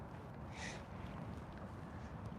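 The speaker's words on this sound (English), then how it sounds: "it just makes an absolute ton of noise because the motor just runs nonstop" A boat's trolling motor holding position on spot lock in strong wind gives a steady, low, continuous hum under gusty wind noise, with no voices.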